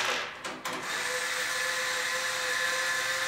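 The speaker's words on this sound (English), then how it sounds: "I got my electric screwdriver just because it's easier. And we're going to pull out" An electric screwdriver whirs steadily while backing screws out of a PC case side panel, a close, continuous high motor whine running for a few seconds after a brief stutter at the start.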